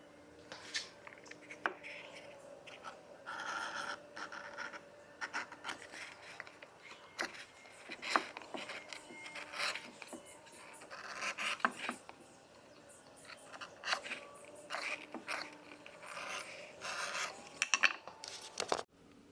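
A thick, chunky piece of leather being cut out for an ammo pouch, giving a steady close rasping and rubbing scrape with small bursts and brief pauses, no talking.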